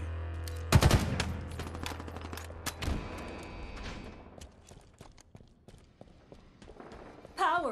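Gunfire against Spartan bots in Halo Infinite comes as bursts of sharp shots and rapid automatic fire, loudest early on, then thins into scattered pops and footsteps, with a voice speaking near the end.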